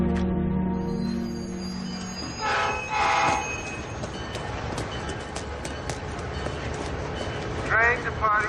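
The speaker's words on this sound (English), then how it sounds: "Train departing to Boston will be on track 4." A train at a station with a rail horn sounding and wheels squealing over steady low rumble, while people talk nearby in an echoing space.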